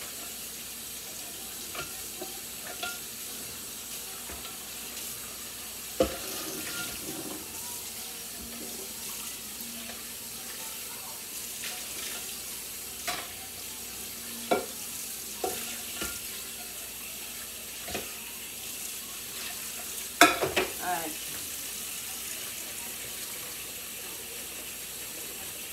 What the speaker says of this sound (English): let's wash the pot